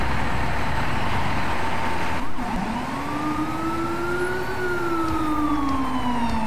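An ambulance siren in the emergency-response game EmergeNYC, set in Brooklyn, wails loudly and steadily, its pitch sweeping slowly up and down across the whole stretch with no one talking over it.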